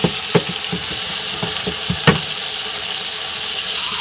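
A beef burger patty sizzles steadily in a frying pan, with a constant hiss and a few sharp pops and crackles near and alone.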